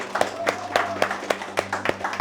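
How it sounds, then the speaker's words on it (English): Sparse, rhythmic clapping from a small group at a results announcement, a handful of separate claps spaced about a quarter second apart over a low steady hum. "So, applause."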